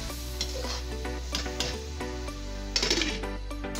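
Potatoes and spices fry in a pan while being stirred. The soft sizzle is broken by occasional spatula clinks and scrapes, and steady background music plays throughout.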